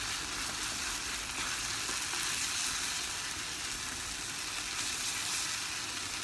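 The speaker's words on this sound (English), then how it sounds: "We will leave this for simmering at a low heat so that we don't have to watch it over" Tomato sauce for egg curry simmering in a pan over low heat, a steady, fairly loud sizzling and bubbling hiss that runs unbroken throughout with no voices.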